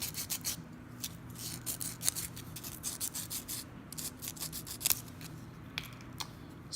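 A 3D printed ring is hand-sanded with a strip of sandpaper, giving close, rhythmic rasping strokes in quick bursts over steady low background hum, with no talking.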